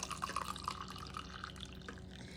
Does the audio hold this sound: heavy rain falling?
no